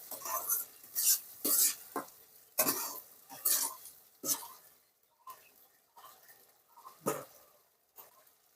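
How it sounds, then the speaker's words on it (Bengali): Masala mixed with milk is stirred and fried in a pan, giving close scraping and sizzling strokes in irregular bursts that thin out toward the end, with no speech. "এটাকে সুন্দরভাবে এবার কষিয়ে নেব যতক্ষণ না মশলা থেকে তেল না ছাড়ে"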